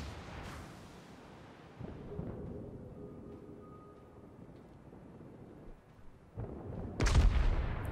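Battleship Friedrich der Große's guns fire shells in World of Warships, a muffled booming rumble with low wind-like noise, building to a loud heavy blast near the end.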